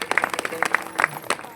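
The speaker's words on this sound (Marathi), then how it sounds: "हे छोट्यांसाठी टाळ्या वाजवा जास्त करून" A kirtan audience gives a brief burst of scattered clapping for the children, uneven and moderately close, lasting only a moment.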